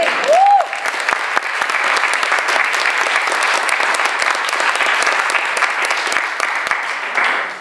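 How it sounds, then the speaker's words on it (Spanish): A church congregation breaks into steady, loud applause for the Lord, dense clapping from many hands that holds evenly throughout after a brief tonal sound at the start. "¿Cuántos pueden dar un aplauso al Señor?"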